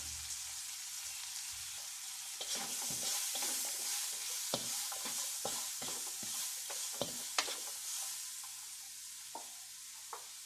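Ginger stir-fried in a pan for a Chinese-style cabbage and chicken dish: a steady close sizzle of hot oil, broken by repeated scraping and clattering stirring strokes through most of the clip.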